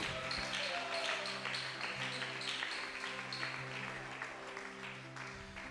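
A church congregation at a general worship service applauds steadily for several seconds, a dense continuous clapping that stays loud throughout, with a few voices mixed in beneath it.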